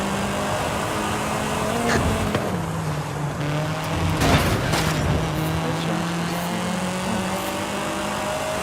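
A car engine in the racing game Forza Horizon roars steadily at close range, its pitch shifting with gear changes and one brief surge in the middle.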